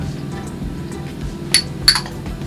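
Glasses and cups salvaged from a dumpster are handled, with two bright clinks of glass against glass standing out from low room noise.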